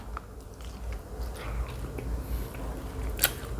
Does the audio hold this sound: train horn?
no